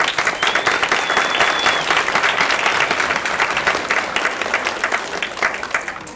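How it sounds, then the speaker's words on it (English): Dense, loud applause from an audience at a beginner band concert fills the whole stretch as a steady wash of clapping with no talk over it. "So, yes, please give a round of applause."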